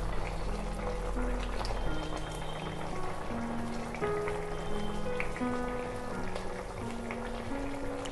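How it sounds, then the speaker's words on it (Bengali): Fried koi fish slide into a boiling cabbage curry, a soft, steady bubbling and simmer that runs throughout, with a faint melodic tone drifting in the background. "ঝোলটা ফুটে উঠেছে, এবারে আমি এর ভিতরে ভাজা মাছগুলো দিয়ে দিচ্ছি।"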